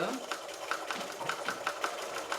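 A home sewing machine back stitches at the top of a quilt, its needle making a quick, steady mechanical patter with a motor hum underneath, heard up close and continuous.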